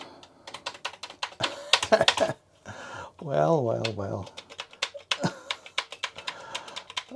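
Keys clack on a worn Commodore computer keyboard under test, a run of sharp, uneven taps close by with a brief pause, while a person speaks between the keystrokes.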